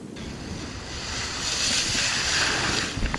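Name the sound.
strong ocean waves and wind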